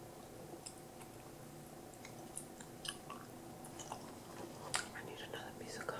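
Sweet watermelon sugar-free gum is chewed close up and quietly, with soft wet smacks and clicks scattered over a faint whispering voice.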